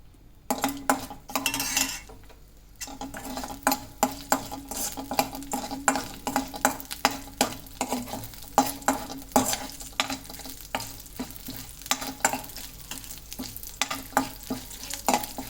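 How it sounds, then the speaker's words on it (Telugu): Oil sizzles steadily as chana dal, urad dal, mustard seeds, cumin and curry leaves fry for a tempering, with frequent metal spoon clinks and stirring scrapes against the pan, close and continuous. "ఆయిల్ వేడెక్కాక అందులోనే కొంచెం శనగపప్పు, మినప్పప్పు, ఆవాలు, జీలకర్ర, కరివేపాకు వేసి వేయించుకోవాలి"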